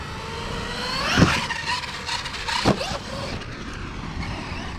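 An HPI Savage X Flux electric RC truck whines as it accelerates, its motor pitch sweeping up sharply twice for bursts of speed and a backflip, loud and close outdoors.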